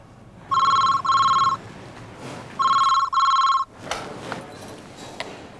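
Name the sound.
telephone ringing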